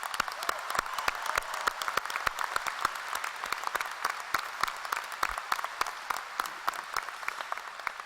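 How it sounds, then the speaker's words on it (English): Sustained applause from an audience at a medical school hooding ceremony, dense rapid clapping that continues evenly throughout at moderate loudness with little else audible. "Would you please give them a round of applause?"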